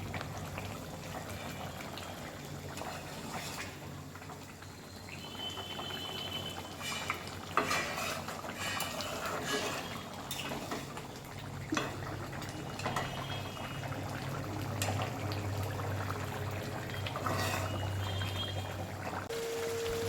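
Partly boiled mutton and its liquid tipped from a pressure cooker into a wok for Bengali mutton kosha, with faint sloshing, pouring and bubbling sounds alongside occasional metal clinks over a long stretch without speech.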